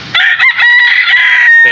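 A backyard rooster crows once, loud and very close, a long drawn-out call held for over a second with no talking over it.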